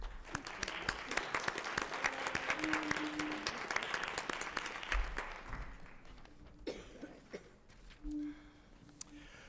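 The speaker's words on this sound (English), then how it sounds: "join me in a round of applause for men and women of the school board" Scattered clapping from a modest crowd at a board of education meeting, faint and somewhat distant, thinning out midway into a sparse room with a few coughs and shuffles.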